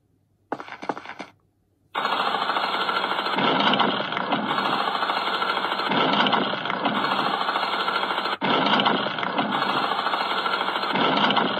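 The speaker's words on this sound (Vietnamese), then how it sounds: "Một cái máy khoan." A mechanical drill runs in a mobile horror game, a brief burst followed by a steady loud grinding whir with a pulsing ratchet-like texture, briefly cutting out once before resuming.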